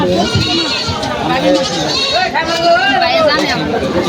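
Goats bleat repeatedly amid a busy crowd at a goat market, their wavering cries overlapping with loud nearby chatter and people talking.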